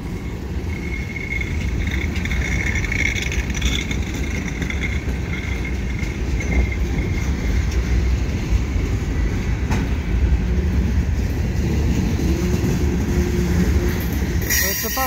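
A CN freight train with side dump cars rumbles steadily past at close range, a continuous roar of wheels and cars with faint squeals, running the whole time without letting up.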